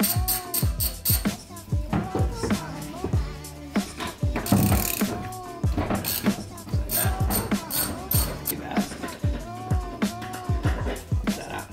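A ratchet with an extension loosens a 14 mm rear seat bolt in a 2019 Toyota Corolla hatchback, giving repeated quick clicking bursts in an uneven rhythm close by, with faint rustling between strokes.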